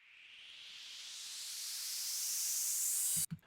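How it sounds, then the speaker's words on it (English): A rising whoosh of bright noise swells steadily louder over about three seconds, then cuts off abruptly into a couple of low 808-style thumps: a reversed cymbal in a hyperpop beat. "I usually like reverse cymbals"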